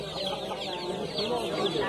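Chickens and young chicks at a poultry market cluck and cheep in a dense, continuous chorus close by, with faint voices in the background.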